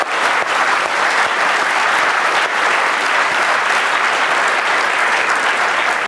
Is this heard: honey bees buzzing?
no